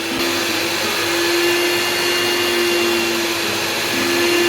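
An electric hand mixer whirs in a loud, steady drone while beating Biscoff cupcake batter, constant and close with a slight pitch change near the end, with no voices.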